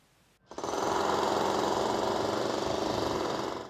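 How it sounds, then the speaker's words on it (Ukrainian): Demolition machinery tears down a two-storey former market building at a central market, a loud steady pounding rumble that starts abruptly and continues unbroken for several seconds with no voices. "Тут розбирають двоповерхову будівлю, де колись були торговельні точки"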